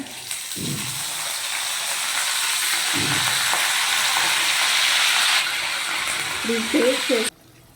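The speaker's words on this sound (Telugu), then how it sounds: "అదే కడాయిలో కొంచెం ఆవాలు వేసుకున్నాను అండ్ ఇప్పుడు కరివేపాకు వేసుకున్నాము" Mustard seeds and curry leaves sizzle in oil in a kadai, a loud continuous frying hiss that swells midway, with brief voice-like sounds at moments and a clatter near the end before it cuts off.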